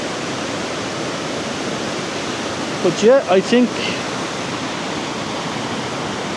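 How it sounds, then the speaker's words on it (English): A waterfall beneath a classic bridge in Wicklow, Ireland, pours as a steady, full rushing wash, with a person briefly speaking over it midway. "it's just a classic bridge and waterfall."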